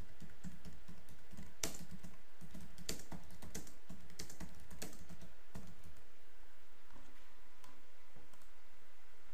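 Steady typing on a computer keyboard while writing a report annotation, a close run of clicky key taps with irregular rhythm that thins out toward the end.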